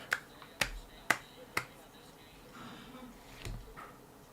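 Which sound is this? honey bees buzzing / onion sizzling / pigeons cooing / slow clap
slow clap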